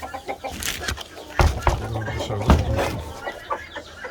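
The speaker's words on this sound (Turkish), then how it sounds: "Burada civcivler var." Hens and chicks cluck and peep close by in a coop, a busy cluster of short overlapping calls with a few louder squawks, with faint rustling in the background.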